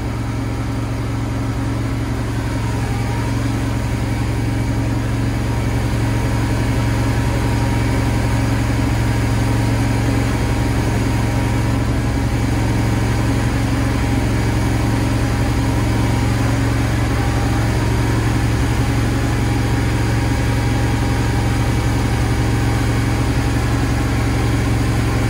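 A Kohler standby generator hums steadily inside a dropover enclosure, a loud, even engine drone with a constant low tone that holds unchanged for the whole stretch, without talk.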